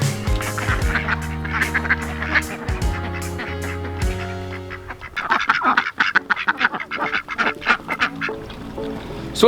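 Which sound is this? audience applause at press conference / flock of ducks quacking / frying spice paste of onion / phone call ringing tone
flock of ducks quacking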